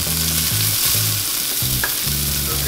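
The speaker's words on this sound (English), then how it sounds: "Now we're going to saute 2 cloves of garlic. And about 2 jalapenos." Garlic cloves and jalapenos sauté in hot oil, giving a loud, continuous close-up sizzle with rhythmic low scraping strokes as the pan is stirred.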